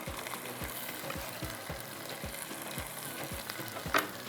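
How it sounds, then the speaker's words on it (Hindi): A spoon stirs tomatoes and potatoes in a pot while they fry, giving a steady run of soft, evenly spaced scraping strokes over a quiet sizzle, close and fairly faint, with one louder clink near the end. "अब इसको थोड़ा सा इस तरह से आपने चम्मच चलाना है"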